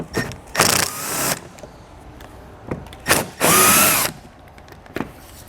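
A power drill backs out bumper screws on a 2019 Buick Envision, heard as several close, loud whirring bursts separated by short pauses, with no talk.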